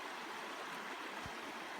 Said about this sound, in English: This is a little river that is behind our campsite, or I guess it's more of a creek.